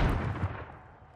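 A single heavy gunshot boom from the video game Warzone, loud at first and then trailing off into a rumbling echo over about a second.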